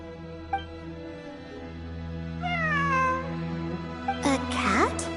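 A cat meows several times in Genshin Impact, drawn-out rising and falling cries over a soft game music bed, the last call louder and closer.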